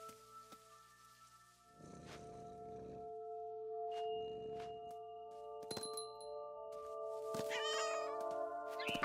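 A cat meows and caterwauls several times in the video game What Remains of Edith Finch, with clear close calls alone over a soft ambient tone and a few faint clinks.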